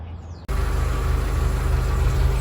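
A Renault Clio IV with a newly swapped rear exhaust silencer starts up abruptly after a brief quiet moment, then settles into a steady, close engine idle with a low even hum.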